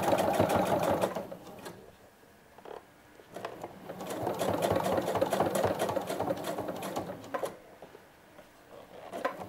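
Sewing machine running in steady bursts as it stitches a seam on a sherpa vest, loud and close, with a short pause midway before the motor picks up again.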